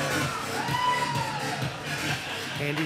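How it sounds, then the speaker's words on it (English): A crowd in the stands at an indoor pickleball match in Scottsdale cheering and whooping as it does the wave, a loose roar that swells and fades in the middle distance. "Crowd starting the wave here inside the orchard"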